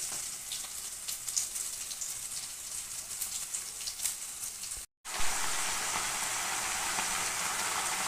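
Amaranth greens tossed into hot oil with frying onions and green chillies, a steady crackling sizzle close by that drops out for a moment and then returns louder and fuller as the leaves hit the pan.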